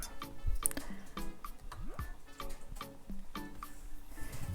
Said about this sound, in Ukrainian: 60 або 70 мл гарячої води і виливаю в сухе молоко.